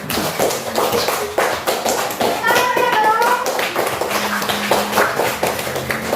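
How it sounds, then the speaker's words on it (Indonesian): Students in a fifth-grade classroom clap for a presenting group, a close, uneven patter of hands with children's voices and movement mixed in. "Kasih tepuk tangan untuk kelompok 1."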